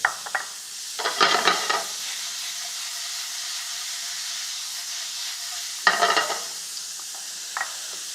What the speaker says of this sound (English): I'm going to introduce a little bit of onion, and I've chopped it very fine so that it will cook almost instantly